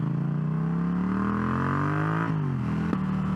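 A Yamaha MT-07 motorcycle fitted with a new air filter accelerates steadily, its engine note climbing in pitch for a few seconds, then easing back briefly at a gear change before pulling again, loud and close throughout.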